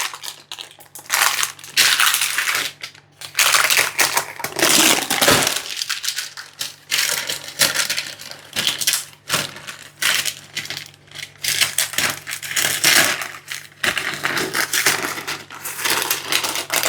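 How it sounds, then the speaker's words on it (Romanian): Baking paper peeled by hand off a still-hot sponge cake layer for a mosaic (Rumba) cake, giving a continuous crinkly, crackling rustle with sharper tearing bursts, close and fairly loud, with no talk. "Desfacem hârtia până mai este încă fierbinte."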